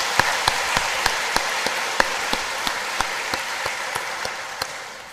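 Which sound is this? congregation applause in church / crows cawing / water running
congregation applause in church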